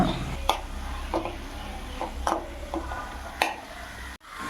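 A crushed mixture of coconut, turmeric, coriander, Kashmiri chili powder, cumin and green chilies being stirred into a pan of beetroot, with soft scraping strokes and occasional sharper clinks over a steady low sizzle, no voices.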